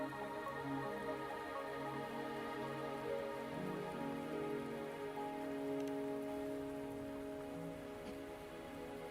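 Rain falls steadily in Wuthering Waves, a soft continuous patter on surfaces with faint drips, layered under sustained ambient music tones.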